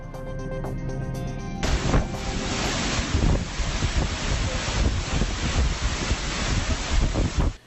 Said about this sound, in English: Hurricane Maria unleashing a powerful river of muddy floodwaters down a street on the southern coast of Puerto Rico.